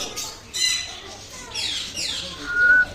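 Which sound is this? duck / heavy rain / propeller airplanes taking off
duck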